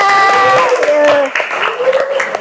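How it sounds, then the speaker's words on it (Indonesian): A classroom group clapping for a student named Talita at a teacher-training session, scattered hand claps under loud sustained voices calling out over the applause. "kasih tepuk tangan buat Talita"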